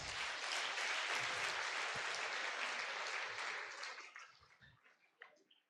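Audience applause at a university college annual lecture, steady and full for several seconds before thinning out into scattered claps and fading away.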